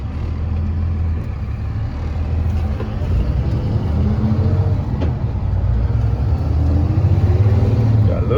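A diesel box truck engine drones low and steady while driving, with road rumble and a slight rise in pitch toward the end, loud and close inside the cab.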